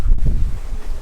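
Strong wind buffets the microphone aboard a sailboat heading upwind in about 15 knots of breeze in the Caribbean Sea, a loud, low, gusty rumble throughout.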